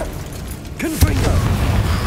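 A Confringo blasting spell goes off in Hogwarts Legacy as a single sharp, loud explosive burst with a rumbling low tail, rising over game sound and music.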